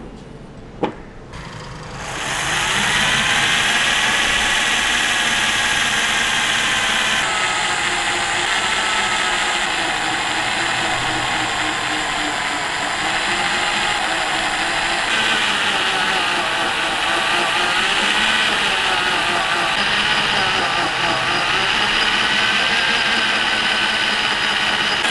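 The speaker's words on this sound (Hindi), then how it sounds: "मैं इसमें होल करने की कोशिश करता हूँ इस ड्रिल मशीन की मदद से" A Hyundai 20mm SDS Plus rotary hammer drills into a roughly 2 kg metal weight plate, giving a steady, loud, continuous grinding whine that runs unbroken for the whole stretch after a brief start-up.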